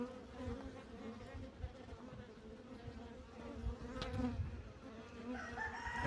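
Honey bees hum in a dense, steady buzz around a strong colony at the hive, faint and outdoors, with a rooster crowing briefly somewhere in the distance.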